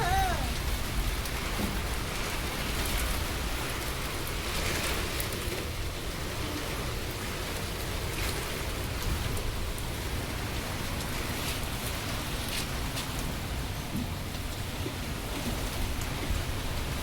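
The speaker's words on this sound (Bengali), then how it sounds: "ভালোই বৃষ্টি শুরু হয়েছে" Heavy rain pours down during an outdoor storm, a dense, steady hiss of drops pelting surfaces that stays loud and unbroken throughout.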